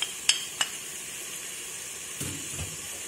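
Chopped onion and bell pepper fry in a pan with a soft, steady sizzle, broken by a few sharp clinks of a utensil against the pan and some low scraping of stirring near the end.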